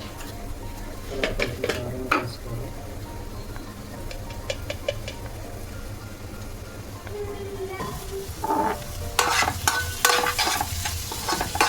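Chili powder and turmeric fry in a pan with a low sizzle, broken by bursts of a spoon scraping and clinking against the metal, louder near the end.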